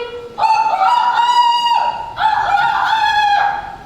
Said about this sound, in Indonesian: ayam jantan Siluk berkokok lagi